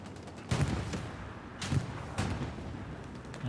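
Gunfire in a shooter video game with a tank nearby: three heavy booming shots a second or so apart, loud and punchy over a low rumbling background.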